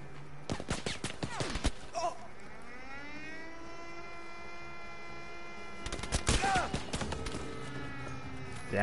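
Mounted machine gun fire in the Battlefield 5 video game, heard as rapid bursts of shots at the start and again near the end, with a steady aircraft drone running underneath.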